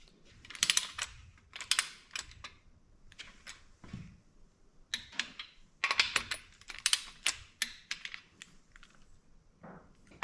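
A torque wrench tightens the main bearing cap bolts on a nitrous 339 small-block Chevy stroker, producing sharp clustered metallic clicks and ratcheting bursts, close and irregular, separated by quiet gaps.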